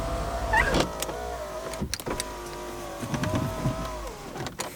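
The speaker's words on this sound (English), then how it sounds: "Do all the bloody windows up." Electric power windows on a Mk3 car whir upward one after another, each motor hum rising and stopping with a faint thunk, close and clear in a quiet parked car with no voices.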